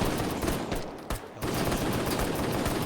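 Shotgun fire in a competitive multiplayer video game match, sounding as a dense, continuous barrage of loud shots with a brief lull partway through, then the rapid firing resumes.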